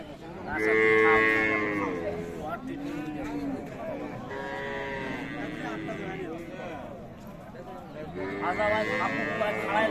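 Friesian cows with calves low and moo repeatedly at a busy Raniganj cattle market, the calls loud and close, overlapping with crowd chatter and voices in the background.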